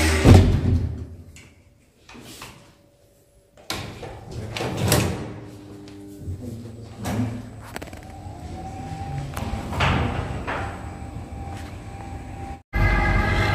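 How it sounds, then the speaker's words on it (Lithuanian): A train arrives at a station in Rome, with uneven mechanical clunks, bangs and rolling rattles, a few loud thumps, then a steady hum near the end, heard close with no talking. "Štai atvažiavo mūsų traukinys, reikia lipti."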